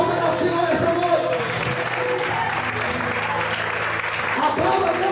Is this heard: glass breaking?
no